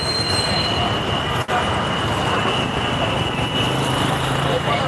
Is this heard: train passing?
yes